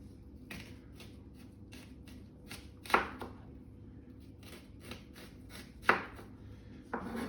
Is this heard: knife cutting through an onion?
yes